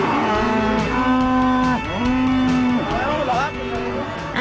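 Cattle moo repeatedly as they are herded into a corral on an Argentine estancia, several long, loud lowing calls overlapping one another at close range.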